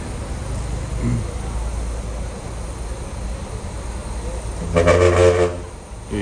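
A loud bus horn blast sounds once for about a second over steady engine rumble and background noise, close by.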